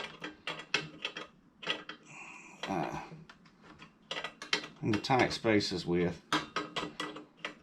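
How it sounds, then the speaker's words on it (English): Small stubby wrench working on the metal parts of a Coleman 220F lantern, giving quiet irregular clicks, ratcheting and metallic clinks in close bursts, with a brief spoken word. "That's one of the reasons I like these little stubby wrenches, is you can get into tight spaces"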